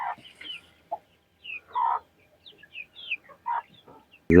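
Young chicks cluck and cheep softly while eating their evening meal, a scatter of short, close chirps and peeps with gaps between, ending in a sudden loud thump.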